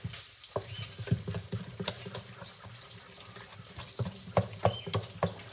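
Food frying in a home kitchen, a steady sizzle with scattered clinks and scraping stirs, several sharper utensil taps near the end, no talking.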